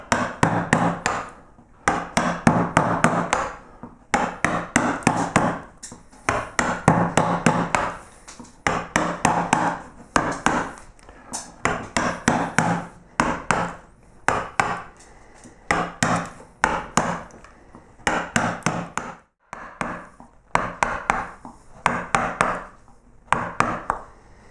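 Sharp, regular knocks of a mallet driving a wood carving tool as it bosts in a carved swag of flowers, a long series of close hits in quick bursts separated by brief pauses, with no talking.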